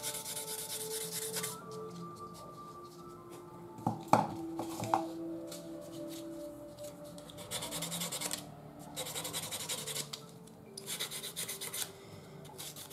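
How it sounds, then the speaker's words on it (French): A polishing file rasps over the edges of a plastic part from a 1/32 Hasegawa P-40E model kit, with close, scratchy back-and-forth strokes, a few sharp knocks and pauses between passes. "on peut fignoler avec une lime de polissage pour que les bords soient parfaits"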